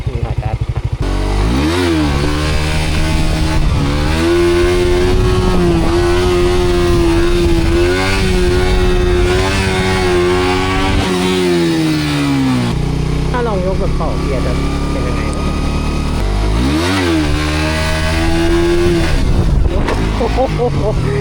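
A Suzuki GSX-R150 revs hard and repeatedly while popping wheelies, loud and close, the engine note rising and falling in sweeps with continuous wind roar over it.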